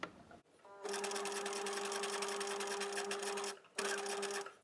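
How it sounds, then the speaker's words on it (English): Bernina 1008 sewing machine running a reverse straight stitch: a steady, close, continuous motor whir with a rapid needle chatter, starting after a short pause and briefly stopping near the end before resuming. "The machine will stitch a reverse straight stitch."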